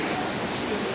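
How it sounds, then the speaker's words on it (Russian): Water plunges with great force at the Gollinger waterfall in a gorge in Austria, a dense, close roar of rushing spray that fills the moment without a break. "Вода падает с огромной силой."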